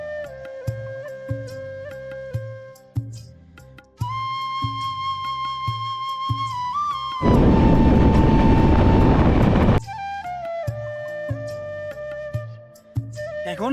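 Madhumati passenger train on the Dhaka to Bhanga run: steady rhythmic wheel clatter under a tonal hum, with a loud rushing roar swelling for a few seconds midway before the clatter returns. No talking.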